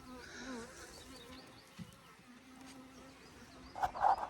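Honey bees buzzing over hive frames as a colony is moved onto Langstroth frames, a steady low hum running throughout with a louder close burst near the end.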